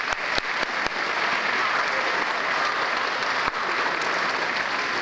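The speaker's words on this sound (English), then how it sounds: "Let's give everybody a round of applause." An audience at a school academic awards ceremony applauds first-grade students with steady, sustained clapping from a crowd. A few sharper claps stand out near the start.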